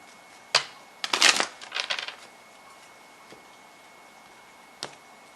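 Tarot lesson cards being shuffled up close: a sharp snap, then a quick burst of riffling and flicking, followed by quiet and one final card tap.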